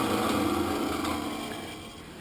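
A 1981 American-made floor-mounted heavy-duty drill press runs with a steady mechanical whir and gear hum, loud and close, tapering slightly toward the end, with no talking.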